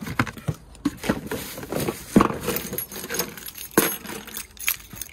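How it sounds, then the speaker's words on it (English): The keys to a 30-ton digger jangle and clink up close in a series of irregular metallic rattles, handled on a very wet building site. "Now then, keys to the machine."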